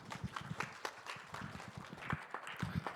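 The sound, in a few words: audience applause welcoming a speaker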